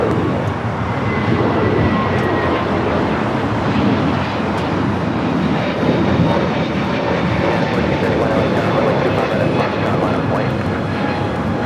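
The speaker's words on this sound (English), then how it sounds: "This is United Airlines 360 taking off to Denver, Colorado on the A321neo" A United Airlines Airbus A321neo jet takes off at Los Angeles airport, its engines giving a loud, sustained, steady roar throughout.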